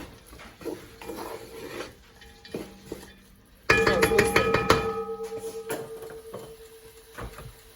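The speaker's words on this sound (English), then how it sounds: "she heard me hit on these pans like that" Metal pans clang and rattle sharply for a few seconds, ringing tones overlapping, after quieter clinks and kitchen clatter nearby.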